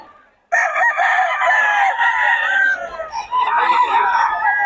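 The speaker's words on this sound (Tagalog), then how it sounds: "Gulo naman itong manok na to." A restless rooster and hen in Bocaue, Philippines, crowing and clucking loudly and close by, the calls drawn out and wavering after a short quiet start, with faint voices in the background.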